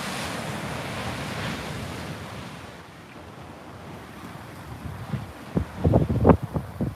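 Small, clean ocean waves breaking on a beach, a soft steady wash of surf with wind noise, building to a few louder close breaks near the end.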